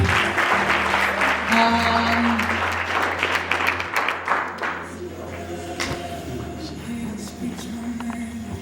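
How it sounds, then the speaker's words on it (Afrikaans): Guests at a 21st birthday party break into loud, dense applause that thins into scattered, rhythmic claps before dying away, with voices murmuring underneath. "Kom hier vir die Afrikaanse klap"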